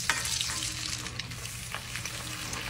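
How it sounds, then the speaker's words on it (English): Caramel candy and butter are stirred as they melt in a pan for caramel popcorn, giving a soft continuous sizzle with light scraping strokes, close and steady with no talk. "And now we just stir."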